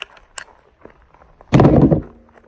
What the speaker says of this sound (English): Let me take a mag out real quick.